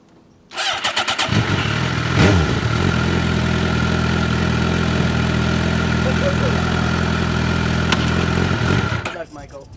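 A sport motorcycle with a recent electrical glitch starts up and settles into a loud, steady idle close by, with a brief rev, then shuts off abruptly after about nine seconds.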